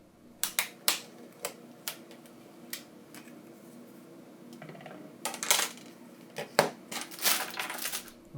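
Plastic clips on the middle frame of a Samsung A21s phone snapping loose one after another, sharp small clicks at irregular intervals, close and fairly quiet, with faint handling noise between them and no talk.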